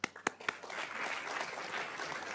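An audience at a school district governing board meeting breaks into applause for a school principal and teacher: a few separate claps, then a steady round of clapping that holds at a moderate level to the end.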